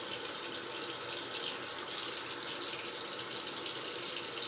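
Tap water runs in a steady, close, continuous stream into a sink during surgical handwashing, with no voices.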